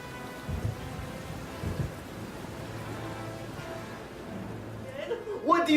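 A storm at sea pours steady rain around a ship, with low thunder rumbling under loud, shouting voices and a sharper crash near the end.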